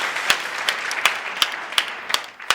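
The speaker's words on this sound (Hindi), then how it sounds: "एक बार इन सब के लिए भी जोरदार तालियां हो जाए" An audience at a motivational talk claps in applause, a moderate burst of overlapping hand claps with a few sharper claps standing out at a steady pace, heard alone without speech.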